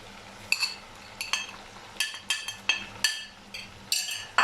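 Powdered spices and softened tomatoes frying in a pan for dhaba-style chana daal, with a metal spoon clinking and scraping the pan in irregular strokes over a low, steady sizzle.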